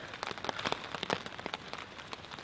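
Rain easing off at a thunderstorm campsite, a light patter of scattered drops tapping nearby surfaces, fairly quiet and uneven.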